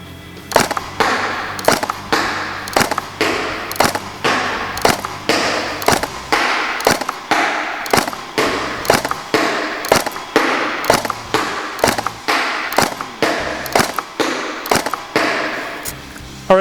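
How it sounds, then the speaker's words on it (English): A Tokyo Marui AUG high-cycle airsoft rifle firing semi-automatic shots at an outdoor range, sharp close snaps in a steady, evenly paced series of about twenty. "I'm going to fire about, I don't know, 15-20 shots down range to get a grouping"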